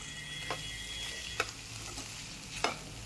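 Vegetable curry cooking on a low gas flame, with a quiet, steady sizzle and a few light scraping stirs of a spoon in the pan, close by and without talk.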